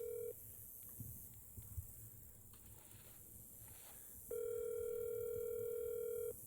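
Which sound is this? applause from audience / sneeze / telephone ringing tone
telephone ringing tone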